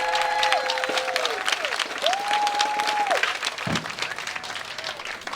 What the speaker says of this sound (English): a good welcoming round of applause to start this off